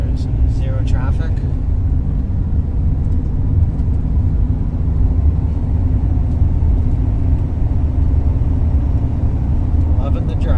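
A van cruising along an empty rural road in Georgia gives a steady, loud low rumble of engine and tyres that holds evenly throughout, with faint voice traces near the start and end.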